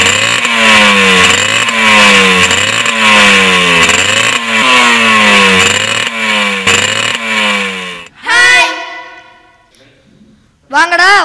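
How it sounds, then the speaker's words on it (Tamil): Loud, close motorcycle engine revving in repeated throttle pulses with a rising and falling whine, then cutting out before short bursts return near the end. "என்னடா பெரிய இடி சத்தம் மாதிரி வண்டி சத்தம்"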